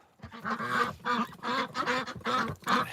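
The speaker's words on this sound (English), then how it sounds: "Ducks are pretty chill." Several ducks quack loudly and close by in repeated harsh bursts at a water bucket on an off-grid homestead, the calls coming in quick rhythmic bouts with no talking.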